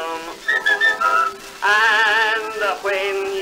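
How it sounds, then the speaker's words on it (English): A 1915 recording of a person whistling the song's tune, bright clear melodic phrases in several bursts with short pauses between them. "If you can't sing the words, you must whistle a tune."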